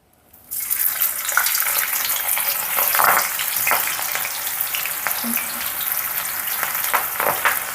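Methi pakoda batter dropped into hot oil on a medium flame, a loud continuous sizzle with crackling bursts and a few splashy pops, close and without talk.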